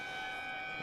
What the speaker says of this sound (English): as you hear the siren go